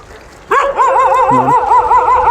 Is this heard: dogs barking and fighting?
yes